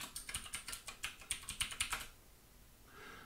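Someone types a password on a computer keyboard: a quick run of about a dozen close, crisp key clicks over two seconds, then near silence with faint background hiss.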